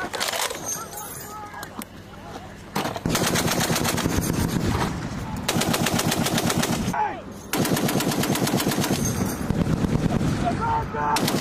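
Machine gun fire at a US Forces Japan live-fire training exercise, Sinka 22.1: long, loud, close bursts of rapid rattling shots that break briefly and resume, with shouted voices between and under the firing.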